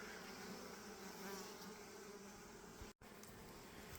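Honeybees buzzing in a hive with many newly emerging bees and a population swelling into a double box, a dense continuous hum at close range with a brief cutout near the end.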